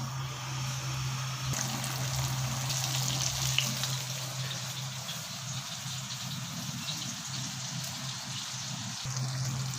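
Chicken leg pieces frying in very hot oil, a steady dense crackle and sizzle that runs without a break throughout, close by, with a low hum underneath and no talking.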